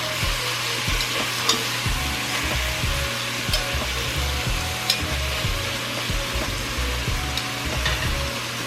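Chicken sizzles and fries steadily in a pot for a one-pot chicken and rice dish, with occasional clicks and scrapes of pieces shifting, loud and close throughout.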